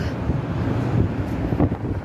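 Strong wind on a dusty, foggy day buffeting the microphone, a constant low rumbling roar with gusts rising and falling.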